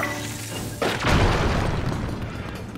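Bomb blasting rocks in the game Zelda Tears of the Kingdom, a single loud boom that breaks in abruptly and trails off into a rumbling crumble.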